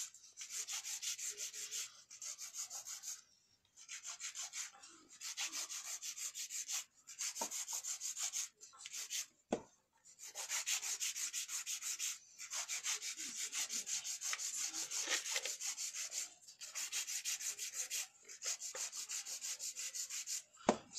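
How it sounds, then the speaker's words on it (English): A nail file is rubbed briskly over gel nails to shape them sharp, giving quiet, close rasping strokes in steady bursts separated by short pauses. "So right now I'm filing these nice and sharp."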